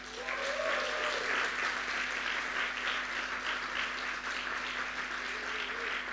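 A crowd at a Young Sustainable Impact demo day applauds the YSI crew, sustained dense clapping heard somewhat distant and fairly quiet, with a steady low hum underneath.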